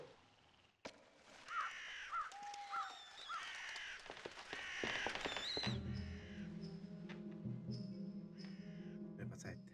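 Crows caw in the PlayStation horror adventure game Dracula Resurrection, several harsh calls repeating over an eerie game soundscape, with someone talking over much of it.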